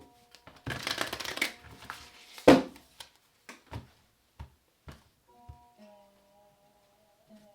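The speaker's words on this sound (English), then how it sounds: "One more shuffle." Tarot cards are shuffled by hand in a quick flurry of riffling, then a run of separate soft taps and slaps as the deck is squared, close and fairly quiet with no talking.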